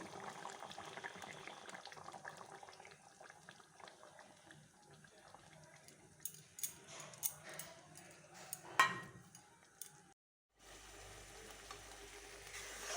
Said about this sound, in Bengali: দেখুন আমার আচারটা ফুটে ফুটে অনেক ঘন হয়ে গেছে